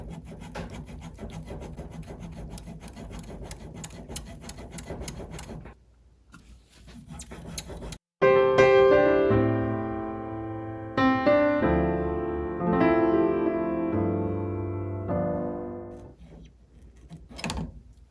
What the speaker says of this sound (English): And I'll just carefully cut away this 1 inch of the new grip.